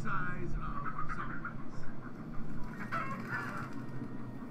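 Chickens cluck and squawk in a Minecraft Story Mode game scene, a busy stretch of repeated bird calls layered over a low rumbling backdrop, with a voice partly talking over it.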